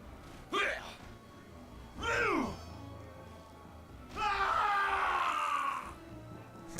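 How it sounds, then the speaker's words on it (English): Orc death screams in Neverwinter Nights, three loud gurgling, groaning cries in turn, the last longer and rougher, each rising out of quieter game sound. "That gurgling scream is next level"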